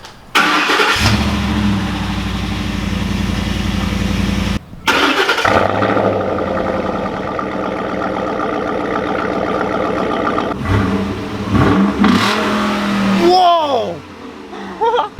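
A Ford Raptor truck fitted with a Corsa exhaust cranks and fires up, then settles into a loud, close idle with sharp revs and a brief cut, ending in a few blips.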